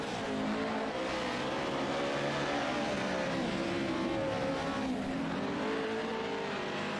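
Race cars at Crandon International Raceway in the iRacing sim, a dense constant engine roar of several cars running close together, with shifting pitch as they battle for the lead and a faint tire squeal.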